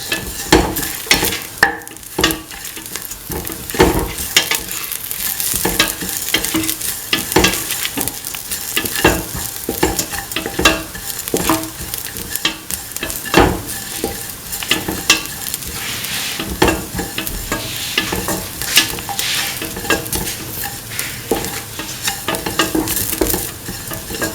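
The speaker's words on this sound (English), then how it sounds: "Saute and mix thoroughly." Potato and coconut milk rice being sautéed and stirred in a pan: a constant sizzle broken by frequent scraping and stirring strokes, close and fairly loud, with no talk.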